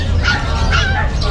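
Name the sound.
chow pom puppy barking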